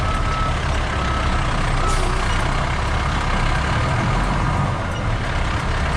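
A truck backs into an excavating job site beside a road, with a loud, steady engine rumble and road noise close by and no talk.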